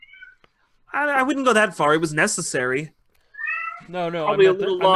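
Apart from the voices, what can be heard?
angry cat meowing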